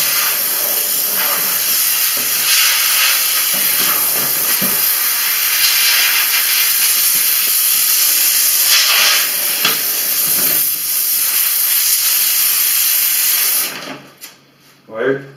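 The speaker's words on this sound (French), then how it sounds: "Un nettoyeur vapeur, ça s'appelle." A steam cleaner hisses steadily while stripping wallpaper, a loud, continuous rushing jet with slight surges that cuts off near the end, leaving a few brief knocks.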